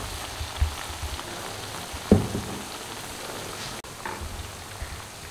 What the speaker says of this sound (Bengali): পিঠে আমি ওই পিঠটা ভেজে নেব।